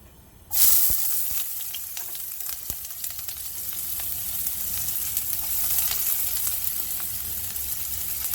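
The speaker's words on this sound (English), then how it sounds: "Let's fry the onions first." Onions fry in hot oil in a pan for Jamaican beef patty filling, bursting into a loud sizzle as they hit the oil and then hissing evenly and steadily up close.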